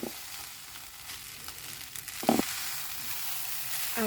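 Rice stir-fried in a pan with soy sauce keeps up a steady close sizzle while the ingredients are tossed together, with a few brief scraping knocks of the utensil against the pan.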